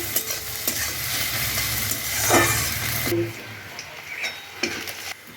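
Onions fry in a pan with a loud, continuous close-up sizzle and crackle, briefly stirred, before the hiss drops away to quieter bubbling for the last couple of seconds.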